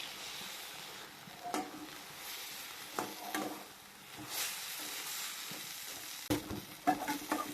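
Onions and coriander sautéing in a pan for chutney, a soft steady sizzle with occasional scraping stirs and light clinks of a spoon against the pan.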